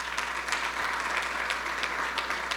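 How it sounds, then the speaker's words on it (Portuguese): A conference audience applauds a business partner with dense, steady clapping from many hands, sustained and fairly loud across the whole short stretch with no voices on top. "Uma salva de palmas para o Gerson, gente."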